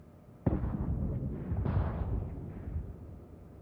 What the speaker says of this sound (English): Target the nearby ship and fire torpedoes at it.